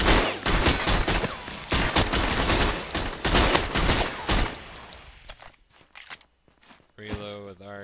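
Rapid bursts of gunfire on a video game firing range, loud and dense for several seconds, then thinning into sparse shots before a voice speaks near the end.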